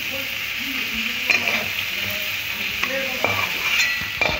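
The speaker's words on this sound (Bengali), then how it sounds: "দেখুন চিংড়ি মাছটা এক দু মিনিট ভেজেছি, বেশি ভাজিনি" Prawns frying in a pan, a constant sizzle under repeated metallic stirring and scraping of a utensil against the pan, close and moderately loud, without talk.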